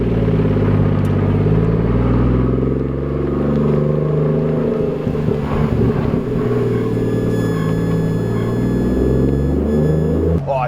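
A Mazda RX7 fitted with a Toyota 1G engine driving along, producing a deep, steady rumbling engine note with slight swells in revs, loud and close, with no voices.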